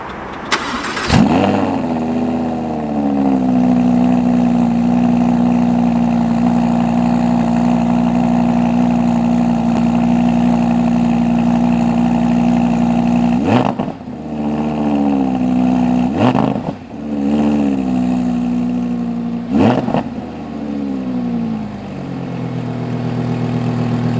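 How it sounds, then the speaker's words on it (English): A 2022 Audi R8 V10 Performance fires up with a sharp cranking bark, then settles into a loud, steady idle. Three quick throttle blips rise and fall near the end, heard up close and alone. "you heard the V10 roar a little bit"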